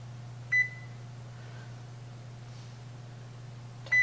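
An oven's keypad gives two short, sharp electronic beeps a few seconds apart over a faint, steady appliance hum.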